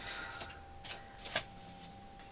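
Paper for a steampunk lap book envelope is trimmed, giving a few faint, soft scissor snips and rustles spaced apart in a quiet room.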